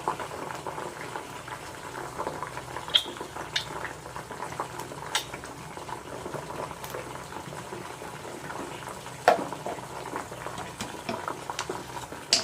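Almond oil is poured into a pan of homemade herbal hair oil heating on the stove, giving a steady soft bubbling and sizzling with a few faint clinks, and nobody speaks.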